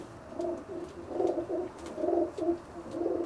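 Racing pigeon hens coo in repeated low, rolling phrases close by, several birds overlapping in an enclosed loft with faint rustling.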